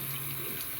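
Running tap water pours steadily and quietly into a sink while a makeup sponge is rinsed under it, a soft continuous hiss with no talking.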